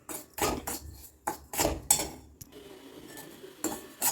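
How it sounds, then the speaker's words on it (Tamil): Roasted varagu millet gets stirred in ghee with a metal spoon in a pan, making irregular clinks and scrapes that come in bursts, fairly close and clear, with no talking. "சேர்த்துட்டு நெய்யில் நல்லா கலரி விட்டுருவோம்"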